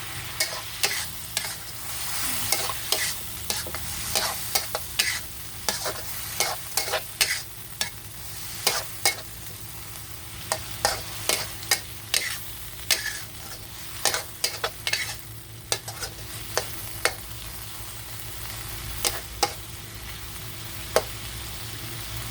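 Pork and ginger stir-fried in a hot pan, a steady sizzle broken by frequent sharp scrapes and clacks of the spatula, loud and close with no voices.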